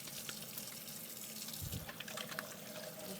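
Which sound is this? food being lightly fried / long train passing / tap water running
tap water running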